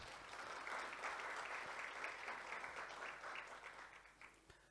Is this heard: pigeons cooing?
no